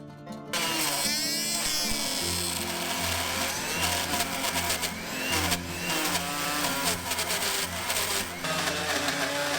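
A power saw blade cuts very dry timber for a hand-joined woodshed built without metal fittings, giving a loud, steady whine with a low drone running continuously through the cut.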